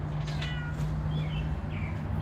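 A cat outdoors on a morning walk gives a few clear meows close by, over a steady low hum of background noise.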